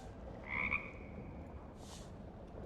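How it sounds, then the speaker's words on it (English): Small frog croaking in the video game Guild Wars, heard in a quiet stone burial chamber: a short, clear croak near the start and a softer second call shortly after, over a steady low ambient hum. "Oh, and we hear a little frog."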